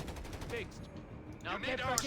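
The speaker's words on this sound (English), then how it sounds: "Greyhound there firing at the Stug." Gunfire from a Greyhound armored car shooting at a StuG in Company of Heroes 3, a faint distant rattle of shots under game ambience, louder toward the end.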